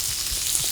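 Pak choy hits a hot pan of Chinese-style fish broth with crispy vegetables, giving a steady close sizzle and frying hiss for under a second, with no talking.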